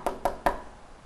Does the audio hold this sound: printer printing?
no